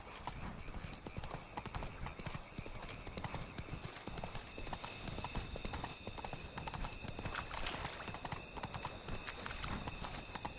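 A horse gallops in the video game Witcher III, rapid rhythmic clip-clop hooves pounding steadily and close, with a faint whinny blended into the noisy outdoor ambience.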